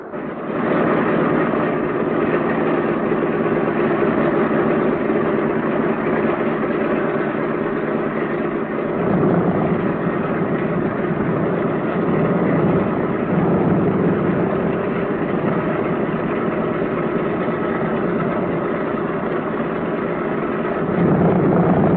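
B-17 bomber engines idle in a flight simulator game, a steady, loud low rumble and drone that holds continuously throughout with a slight swell partway through.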